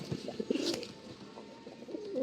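Pigeons in a loft give soft, low coos in a short cluster, fairly close and moderately loud, with a few brief bird calls mixed in and no talking.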